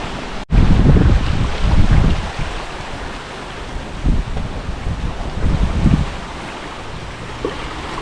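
Strong gusting wind buffets the microphone during a storm on an island before dawn, while water surges and rushes in heavy swells, rising and falling in loud waves.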